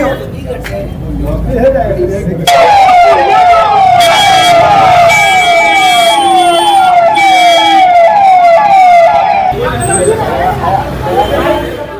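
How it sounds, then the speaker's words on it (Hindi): An ambulance siren wails loudly and close as the vehicle pulls into Beur jail in Patna, its rising and falling tone repeating steadily for several seconds over traffic rumble and faint voices. "एम्बुलेंस पहुंची है जेल के अंदर।"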